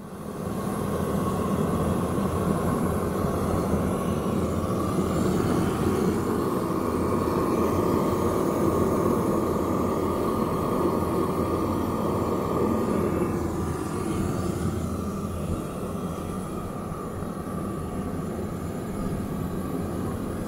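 A Teleflex MBU engine runs steadily on diesel fuel, a loud continuous mechanical drone with a strong low hum that holds even for the whole stretch, easing off only slightly toward the end.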